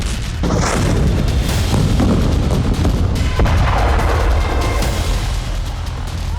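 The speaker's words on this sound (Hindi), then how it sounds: "टैंक और तोप बारूद उगल रहे।" Heavy, continuous rumbling booms of tank and artillery gunfire in the Russia-Ukraine war, loud and dense with sharp blasts breaking through a constant roar.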